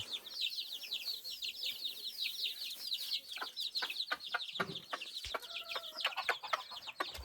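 Young chicks peep and cluck in a quick, busy chorus while pecking at freshly cut grass, with some sharper taps and calls scattered through; the sound is close but fairly soft.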